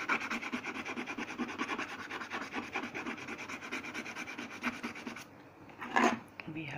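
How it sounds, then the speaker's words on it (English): A scale is rubbed back and forth across a pattern drawing on paper, making a steady rapid rasping scrub for about five seconds before a pause and one last short scrape, close and fairly loud. "rub with the scale."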